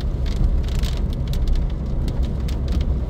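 Steady, easing rain falls outdoors over a garden, making a constant hiss of drops with scattered sharper patters and no voices.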